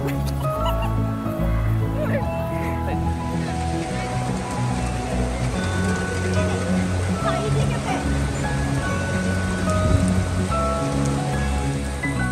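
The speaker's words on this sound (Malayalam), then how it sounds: "ഇപ്പൊ മഴ പെയ്യുന്നുണ്ട് ഇവിടെ" Rain falls steadily at Snehatheeram Beach in Kerala as a continuous, fairly loud hiss of drops on the surfaces all around, with some voices and tonal sounds faintly beneath it.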